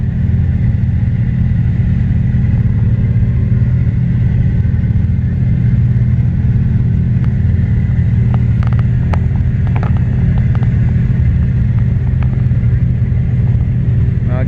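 Kawasaki Teryx off-road side-by-sides, decorated with lights and an inflatable skeleton, rumble along on a ghost town run, a steady low engine drone with a few brief clicks and knocks over it.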